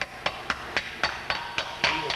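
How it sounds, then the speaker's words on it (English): Hammer tapping a bearing seal into a wheel hub through a PVC pipe installer, eight evenly spaced sharp knocks about a quarter second apart, close and fairly loud. "you tap her down with a hammer"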